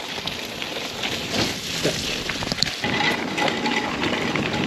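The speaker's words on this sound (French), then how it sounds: "Ah là, avec la pluie" Rain falls steadily during a wet gravel bike ride in the Vosges, a continuous close hiss and patter with faint wind, no talking.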